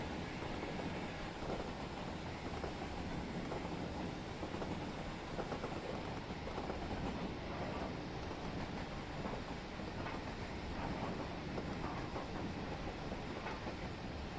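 A train in Train Simulator 2020 rolls steadily down a grade as the brakes go on, giving an even, muffled rumble that holds at low volume without a break.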